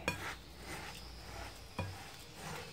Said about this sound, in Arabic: نبقى نخلط حتى يبدا يتكور لي البنات في يدي يتكور